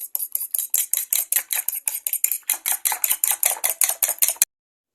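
A spoon clinks and scrapes steadily against a bowl while chicken shami kabab mixture is stirred with pepper powder and salt, a brisk, even rhythm of close metallic strokes with no talking, ending abruptly.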